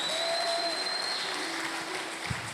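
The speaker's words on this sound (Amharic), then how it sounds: "ለጌታ ለኢየሱስ እስቲ ከፍ ያለ ጭብጨባ" Church congregation clapping together in a steady, dense wash of applause that fills the whole moment, fairly loud and continuous, with a faint sustained tone drifting over it.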